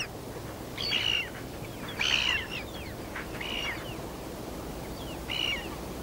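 Gulls calling in the Arctic near a seal carcass, a few short separate cries at moderate distance over a steady windy, hissing background.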